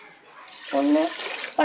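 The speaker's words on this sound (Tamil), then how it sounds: "இப்போ வந்து ஒரு 2 கப்பு தண்ணி எடுத்து ஊற்றிக்கிறேன்" Water poured from a cup over rice being washed in a pot, a short splashing pour that starts partway through and stops briefly near the end, close and fairly loud.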